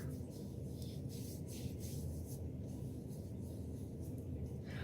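Foundation makeup is rubbed into skin, a soft, close, continuous brushing and rubbing sound, quiet and steady with no talking.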